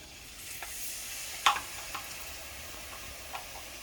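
Steady sizzling of chicken broth poured into a hot roux in a pan, with a few faint clicks and a brief sharp clink partway through; no talking.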